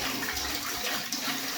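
Water pours steadily into a small sparge pot for a raspberry saison homebrew, a close, continuous hissing rush without pauses or speech.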